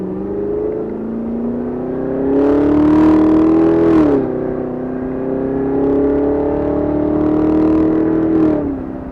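A rare Carbon 65 car drives and accelerates, its engine note climbing through two rising revving pulls with a brief drop between gears, heard loud and close from inside the cabin.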